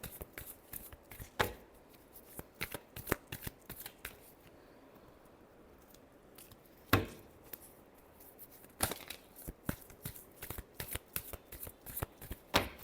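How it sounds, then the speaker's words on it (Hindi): Tarot cards are shuffled by hand in repeated bursts of crisp riffling and sharp snaps, close and clear, with short pauses between rounds and a quieter stretch midway. "Last shuffle."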